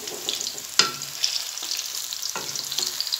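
Onions browning in oil in a pan for vegetable pulao, a steady close sizzle with sharp scraping stirs at regular intervals.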